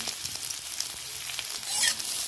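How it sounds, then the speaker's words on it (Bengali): Chopped onion and chillies fry in a pan with a close, steady sizzle, brief and unbroken, swelling slightly louder near the end. "পেঁয়াজটা ভেজে নিয়েছি"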